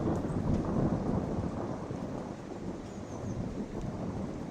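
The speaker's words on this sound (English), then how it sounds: "I've got some proper lightning strikes at the moment. You see, it hasn't stopped thundering for the past minute." Thunder rolling through a lightning storm, a loud, deep, continuous rumble with rain and wind hiss beneath it, strongest at the start and easing only a little.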